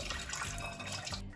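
Water drains and trickles from soaked walnuts being rinsed, a steady close splashing flow that cuts off abruptly at the end.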